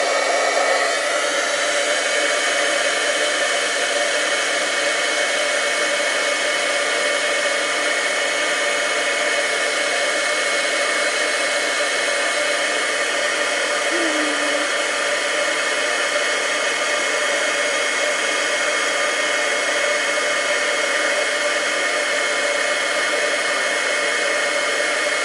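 Heat tool blowing hot air to melt embossing powder on a card, a loud, steady fan whir and rushing hiss that runs unbroken for about twenty-five seconds.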